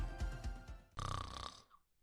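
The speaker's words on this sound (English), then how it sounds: "Is your spouse's snoring becoming an issue?" A sleeper snores in two loud, rough breaths: a short pulsing intake followed by a longer buzzing exhale that fades out, close and alone.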